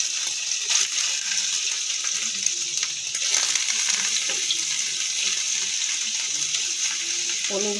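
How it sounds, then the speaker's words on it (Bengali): Paneer pieces frying in a pan for a capsicum dish, giving a steady, close, broadband sizzle throughout with no talk over it. "দেখো, আগে পনিরগুলো ভেজে নিচ্ছি।"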